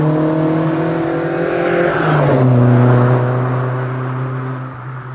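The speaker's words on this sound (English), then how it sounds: "the engine is running really strong" A Toyota 4A-GE 20-valve engine runs loud and close during road tuning, a strong tonal drone whose pitch shifts partway through and then settles as it holds a steady note.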